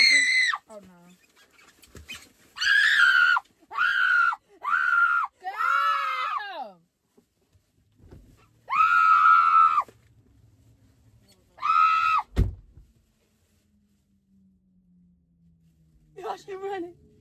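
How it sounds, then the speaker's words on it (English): A man screams at the top of his lungs in several loud, strained bursts separated by short pauses, some rising and wavering, with a few quieter sounds between and a sharp thump near the end. "I'm screaming to the top of my lungs"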